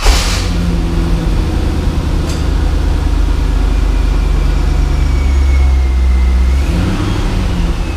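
A C5 Corvette engine rumbles loudly at idle after starting, a deep, steady, close-up drone with a faint whistle rising toward the end and the idle shifting near the finish.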